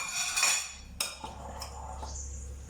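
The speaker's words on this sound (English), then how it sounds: "we add in all the spices together and give this a good mix" A spoon scrapes and clinks against a bowl while spices, lemon juice and oil are mixed into a dry rub for chicken, with a sharp knock partway through and softer scraping after.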